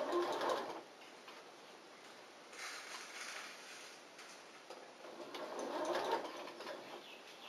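A sewing machine stitches a hat's crown lining to its brim, running in a steady mechanical whir that rises and fades in several bursts and stays fairly quiet and close, with no talking.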